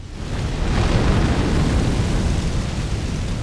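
Enemies in Elden Ring Shadow of the Erdtree set off a loud, continuous roar of explosive rumble that rises fast and holds steady, a dense blast-like wash with no voices over it.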